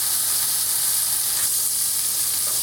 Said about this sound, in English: Now that my sausage has had a little chance to brown on one side